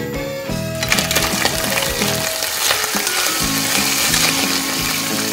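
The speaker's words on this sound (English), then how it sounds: "The sound of frying fat is very soothing." Fat sizzles and crackles steadily in a tiny pan in a miniature kitchen, a close, continuous frying hiss with small clinks and stirring scrapes throughout.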